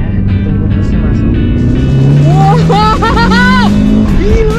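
A Mitsubishi Evo VI GSR 4WD car engine accelerating, a loud continuous drone rising in pitch as it gains speed, with a voice speaking over it.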